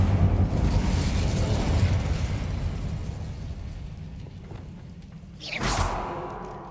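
An Incendio fire spell cast in Hogwarts Legacy: a dull rumbling that fades, then a sudden fiery whoosh and burst near the end.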